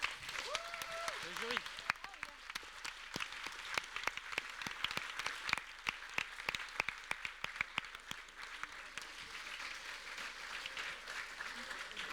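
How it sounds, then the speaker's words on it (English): An audience gives final applause at a game design school's master's thesis defense session, steady crisp clapping from a modest crowd that continues throughout, with some voices mixed in underneath. "So please, final applause for."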